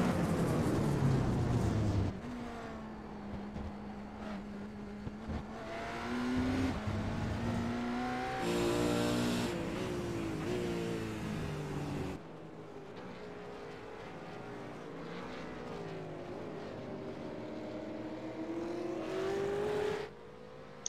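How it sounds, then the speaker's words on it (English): Hybrid race cars of about 800 horsepower at a six-hour endurance race, their engines roaring past in successive waves, pitch rising and falling as each car accelerates and fades, with a steady loud drone between passes. "these hybrids are only 800 horsepower, but they just go so fast because of the aero and the design."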